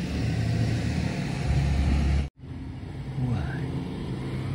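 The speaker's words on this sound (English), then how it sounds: "As a loud school bus goes by." A loud school bus roars past on a street corner, a heavy rumbling engine sweep that cuts off abruptly midway, then lighter traffic noise carries on.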